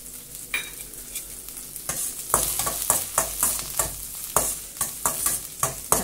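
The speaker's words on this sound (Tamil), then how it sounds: "இது மட்டும் இருக்கட்டும், நல்லா வதங்கிட்டுருக்கு." Green chili and coriander sautéing with onion in a pan, a close, steady sizzle broken by a regular run of scraping stir strokes, with no talking.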